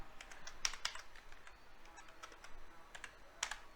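Quiet, sparse clicks of typing code on a computer keyboard during Flutter app development, a few scattered keystrokes at close range with short pauses between them, no voices.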